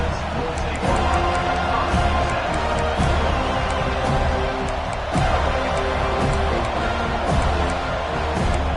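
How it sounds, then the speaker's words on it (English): A large football stadium crowd roars in a steady, dense wall of cheering and noise that holds loud through the whole stretch, with scattered shouts and claps rising out of the din. "This crowd ready to make its presence known."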